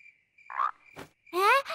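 A cartoon frog makes a few short, close croaks, brief separate bursts with silent gaps, ending in a longer rising, throaty call.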